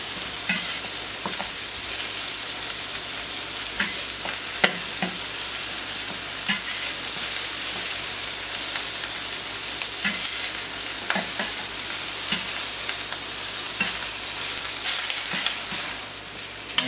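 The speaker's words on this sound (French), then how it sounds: "Donc voilà, ça grille doucement, les oignons commencent à colorer." Onions and aubergines grill in a hot pan with oil, a steady close sizzle broken by regular soft scrapes and knocks as the pieces are stirred, with no talking.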